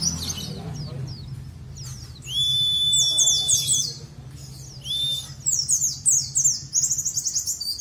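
Pleci (white-eye) birdsong master recording: high, twittering chirps and sweeping whistles repeat over a steady low background hum, with the song growing denser and louder in bursts partway through.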